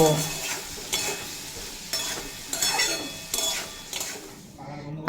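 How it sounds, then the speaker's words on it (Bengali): Vegetables fry with turmeric and a little chili powder for a yardlong bean and potato curry, a steady sizzle broken by repeated stirring scrapes and occasional clinks of a utensil against the pan. "আর সামান্য লঙ্কার গুঁড়ো দিয়ে আবারও দুই তিন মিনিট মতো ভেজে কষিয়ে নেব"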